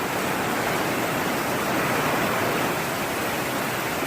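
Heavy rain from a severe thunderstorm squall line pours down near Goose Creek, South Carolina, in February. The downpour is a dense, steady, loud hiss with no breaks and no voices.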